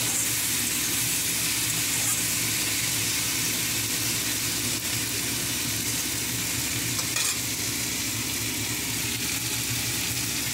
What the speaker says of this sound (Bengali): টমেটো আর ক্যাপসিকাম আর পেঁয়াজ ভাজা হচ্ছে